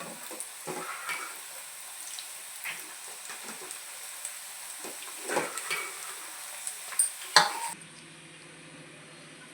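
Meal maker (soy chunk) pakodi fritters dropped into hot oil over a medium flame, giving a steady close sizzle with soft stirring clinks and scrapes, then the frying quiets near the end.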